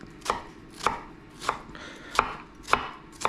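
A knife dices white onions on a cutting board, six crisp, evenly spaced chops landing about every half second, close and clear, with no talking.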